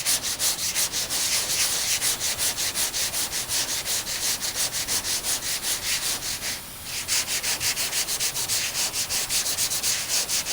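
Block sanding of body filler on car bodywork makes steady, rhythmic rasping strokes, roughly four per second, loud and close. There is a brief pause midway, and then the back-and-forth scrubbing resumes.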